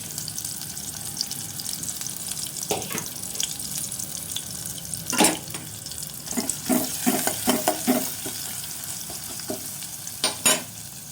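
Chopped garlic and onion frying in a pan in a hot home kitchen, with stirring scrapes and a handful of sharp clinks and taps over a faint steady sizzle, close by and without talk.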